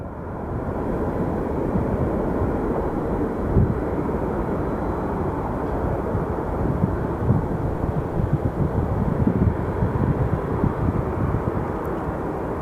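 An airliner rolling down the runway for takeoff at Phoenix Sky Harbor Airport, a loud, steady low roar of jet engines with rumbling turbulence, heard from nearby and sustained throughout.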